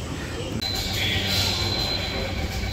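A Mumbai metro train runs steadily with a loud broadband rumble, and a high, thin wheel squeal rises partway through.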